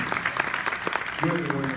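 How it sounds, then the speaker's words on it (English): Audience applause at a 2018 True Blue gala honoring elected officials, a dense steady patter of many hands under someone speaking over a microphone. "So when you give our elected officials a round of applause"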